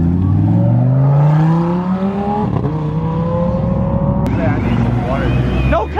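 A Diablo SV supercar accelerating hard out of Dallas: loud, close engine roar climbing in pitch, a gear shift, then another rising pull, heard alone.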